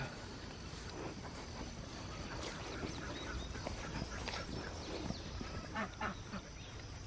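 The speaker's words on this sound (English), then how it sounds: "let's go let the ducks out." Faint quacking from several ducks comes through a steady broadband rush of background noise, scattered calls rising and falling over about seven seconds.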